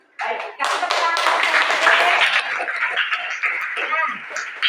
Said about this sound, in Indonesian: Baik, kasih tepuk tangan.